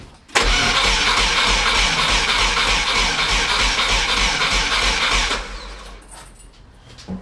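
Subaru engine swapped into a Volkswagen T3 van cranks steadily and loudly for about five seconds without catching, the starter churning continuously before it stops and a quieter room remains.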